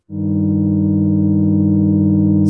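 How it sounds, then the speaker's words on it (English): A steady Moog Matriarch synthesizer sine-wave tone with heavy pulse width modulation sustains evenly after a quick onset, its slightly shimmering, chorus-like quality holding unchanged to the end. "I'm going to go to a sine wave and a lot of pulse width modulation"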